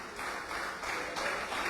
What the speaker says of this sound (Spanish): Denle otro aplauso fuerte para que no se enoje